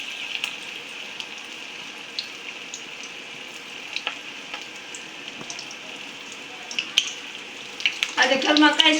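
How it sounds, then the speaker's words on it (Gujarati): Cabbage manchurian balls frying in hot oil give a steady, close crackling hiss, swelling to a louder burst of bubbling near the end. "હાલો ફટાફટ બધી ગોટીઓ તળી લઈએ."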